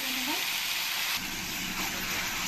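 Green chillies frying in a pan with a steady, bright sizzle that fills the whole moment, close and fairly loud, with a brief stir partway through.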